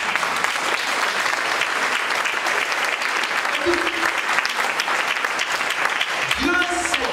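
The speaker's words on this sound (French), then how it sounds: "Acclame le Seigneur." A church congregation applauds to acclaim the Lord, a steady dense roar of clapping that stays loud throughout, with voices calling out underneath.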